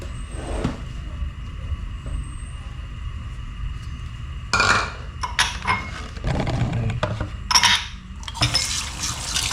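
Drinking glasses are being washed, with scattered clinks and knocks of glass against dishes amid water splashing, growing busier and louder in the second half.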